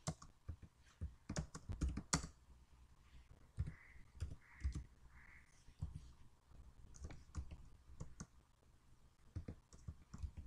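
Computer keyboard typing while entering code in an online C compiler: irregular bursts of sharp key clicks, fairly close and moderately loud, with brief pauses between runs.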